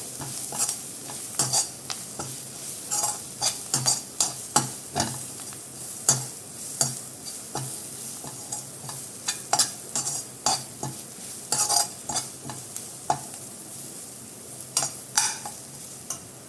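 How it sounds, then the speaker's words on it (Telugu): Garlic frying in a pan for aloo masala fry while a spoon stirs it, a soft steady sizzle punctuated by repeated sharp scrapes and clicks of the spoon against the pan, close and alone. "వెల్లుల్లిపాయ, అది కూడా ఇందులో యాడ్ చేసేసుకోవాలి. ఫ్రై చేసుకోవాలి కొంచెం."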